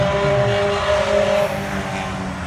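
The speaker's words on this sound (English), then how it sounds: "That's a loud motorcycle back there." A loud engine roars steadily nearby, its drone holding for a couple of seconds before easing off slightly.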